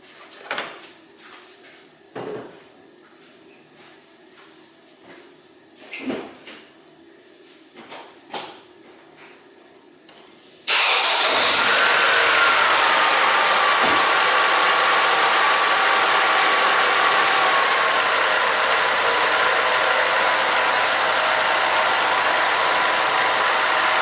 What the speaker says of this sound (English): I start my car's engine next